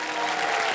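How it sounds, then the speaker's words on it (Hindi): Studio audience applause at the Kaun Banega Crorepati Season 15 game show, a dense, steady wash of clapping that fills the whole brief moment without any voices. "जब इधर जाएंगे तो ताली बजेगी"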